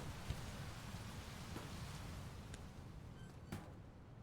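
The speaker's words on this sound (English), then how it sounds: "And it's raining." Steady rain falling in the video game Teardown, a dense, even hiss of drops on surfaces with a few brief sharper taps, continuous and fairly faint throughout.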